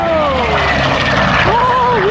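A WWII fighter plane with a Pratt & Whitney 2,800 cubic inch radial engine roars past at an air show, loud and close, its engine pitch sweeping and falling as it passes.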